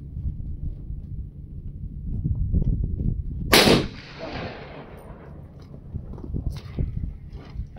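A single loud gunshot at a shooting event in Las Vegas cracks sharply mid-clip and echoes away, with voices and crowd chatter continuing underneath throughout.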